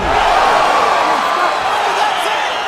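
A game crowd cheering a knockout in the UFC 5 video game: a loud, steady roar of arena cheering and whooping that carries through without a break.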